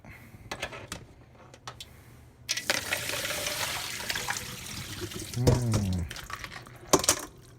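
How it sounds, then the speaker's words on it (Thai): Cooked udon noodles rinsed under cold running water in a Japanese kitchen, a steady close splash and rush of water lasting several seconds with clinks around it, while someone speaks over it. "ล้างล้างล้างเส้นเส้นอุด้ง"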